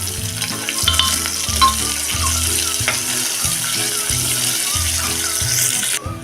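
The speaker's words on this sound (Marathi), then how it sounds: "त्यात आता हा टाकूया उभा लांबट चिरलेला कांदा कांदा आता छान मऊसर होईपर्यंत आपण हा परतून घ्यायचा आहे" Sliced onion, cut lengthwise, sautéing and being stirred in a pan for masale bhat, a steady close sizzle with soft scraping of the utensil, heard with background music.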